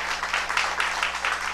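A church congregation applauds the Lord in a steady burst of clapping, dense and sustained, heard from within the crowd at moderate loudness.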